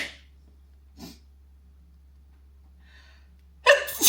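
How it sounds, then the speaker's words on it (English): A single sharp sneeze bursts out loudly near the end, preceded by a quieter intake of breath and a faint sniff earlier, over a low steady hum in an indoor room. "I need to sneeze."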